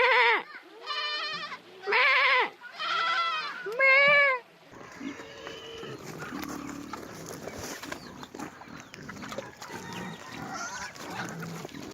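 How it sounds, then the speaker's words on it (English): Lambs bleating on a farm, four loud close cries in quick succession, followed by a busier stretch of softer bleats and barnyard murmur with a person talking. "I'm surrounded by lambs at the moment."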